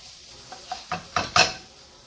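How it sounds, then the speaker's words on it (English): Minced garlic cooking in a pan for chicken Alfredo, a soft sizzle under a few light stirring scrapes and utensil taps that grow slightly louder, close by. "now you want to cook this garlic just a little bit."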